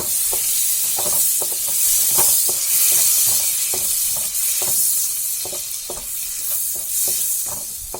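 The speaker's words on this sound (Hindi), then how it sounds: "इसके बाद इसमें हम दालचीनी डालेंगे, हरी मिर्च डालेंगे और इसे चला लेंगे।" Cinnamon and green chili fry in a pan for paneer butter masala, a steady loud sizzle with repeated scraping stir strokes throughout, no voices.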